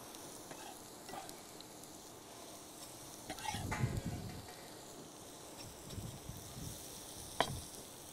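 Chopped onion and garlic fry in a pan of chili, basil and garlic-infused oil, a soft steady sizzle with a few stirring scrapes and clatters, quiet and close.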